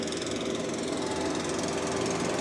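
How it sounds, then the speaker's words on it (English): A tractor engine runs close by on a golf course during cleanup work, a steady, loud mechanical drone with a rough knocking texture that holds evenly throughout without pauses. "there's a tractor here cleaning up."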